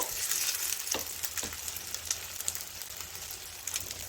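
Egg puffs frying in well-heated oil, a steady close hiss and crackle of bubbling oil with scattered small pops, fairly quiet and continuous throughout.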